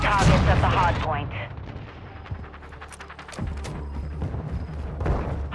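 Heavy gunfire and explosions from a Call of Duty hardpoint match, rapid bursts and booms layered dense and loud under game voice callouts.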